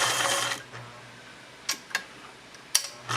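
An older sewing machine stitches a seam through fabric in a short, loud whirring burst, then stops. A few sharp mechanical clicks and taps follow in the quiet.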